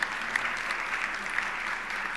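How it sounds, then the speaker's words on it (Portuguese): Audience applause in a church service, steady sustained clapping from a congregation filling the whole stretch at moderate level, with no speech over it. "Vamos aplaudir o Senhor mais uma vez."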